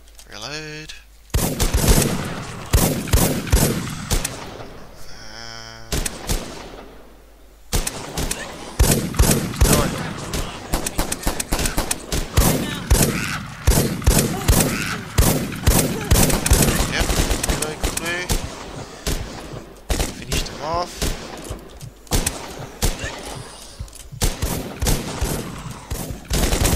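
Assault rifle fire in the survival game Rust comes in rapid bursts and long automatic strings of sharp, loud reports. It continues for most of the stretch, broken by short pauses, with some talk mixed in.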